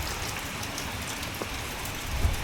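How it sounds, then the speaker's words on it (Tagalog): Steady rain falling, a dense continuous hiss of drops on surfaces, alone with no voices. "Ayaw tumigil na ulan."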